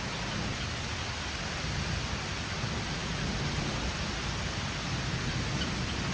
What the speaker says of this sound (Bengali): মেঘ ডাকছে, ভালো বৃষ্টি পড়ছে।